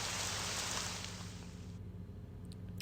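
Steady rain pours in the video game Amayado Bus Stop, a dense, close hiss that suddenly drops away partway through, leaving a quieter, muffled ambience with a few faint drips.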